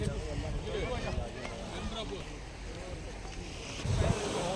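Sea waves wash onto a beach at Umm Al Quain, a steady broadband roar with wind noise on the microphone and a louder surge near the end.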